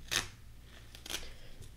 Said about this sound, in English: Try not to cut the fabric itself.